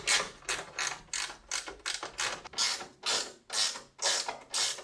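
Bolts on a 1966 Mustang being tightened with a ratchet during a 4.6L modular V8 engine swap, about a dozen close, crisp bursts of ratcheting clicks in a regular rhythm, no talk.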